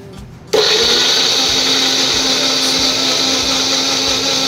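An electric blender starts abruptly and runs at a loud, steady whine, grinding chopped ginger, onion, garlic and green chillies into a paste for an egg curry, with no one talking over it.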